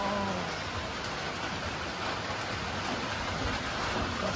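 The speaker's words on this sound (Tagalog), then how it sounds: "Malakas na talagang ulan." Heavy rain pours down steadily, a dense, continuous wash of hiss with no voices, close and loud throughout.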